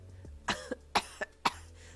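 Three sharp coughs in quick succession, close and distinct, each followed by a softer catch, with a low hum underneath.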